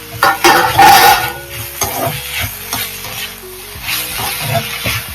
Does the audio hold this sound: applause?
no